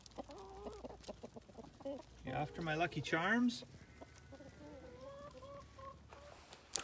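Chickens cluck and squawk close by, with a burst of louder agitated calls in the middle, while a person speaks briefly.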